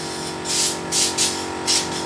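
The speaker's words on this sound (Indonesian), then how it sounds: "Jadi saya cukup semprot aja sedikit." Carburetor cleaner sprayed from an aerosol can onto the throttle body of a Honda Revo Fi motorcycle, heard as four short close hissing bursts of uneven length with brief pauses between them, no voices.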